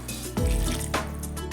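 Water is poured or run from a tap while cooking fish curry, a close, continuous splashing stream with a brief louder gush near the start.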